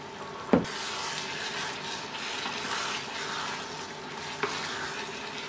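Eggs frying in a pan being stirred, a steady close sizzle with the scrape of the utensil and a couple of sharp knocks against the pan.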